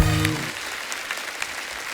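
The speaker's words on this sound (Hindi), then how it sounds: "जोरदार तालियां हो जाए।" A studio audience on a TV comedy talk show breaks into steady, close-sounding applause right after a host's voice cuts off, the clapping continuing evenly to the end.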